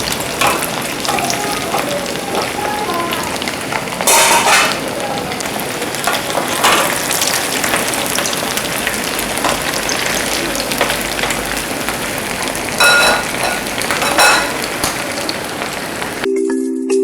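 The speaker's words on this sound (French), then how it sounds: "on va venir les faire frire dans de l'huile pour les faire dorer un peu" Meatballs frying in hot oil, a continuous dense sizzle and crackle that stays loud and close from start to finish, with a few brief louder spatters and no talking.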